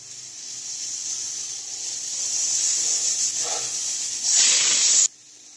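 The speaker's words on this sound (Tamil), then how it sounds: "ரெண்டு விசில் வந்துடுச்சு, பாஸ் பண்ணிடலாம்." A pressure cooker cooking kollu for sambar lets out a loud, steady whistle of escaping steam that builds into a harsher hissing burst before cutting off abruptly, heard alone.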